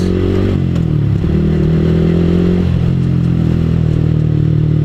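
Manual clutch motorcycle on a downhill road, its engine droning loudly and steadily close by with rough clattering texture and a slight rise in pitch as it accelerates.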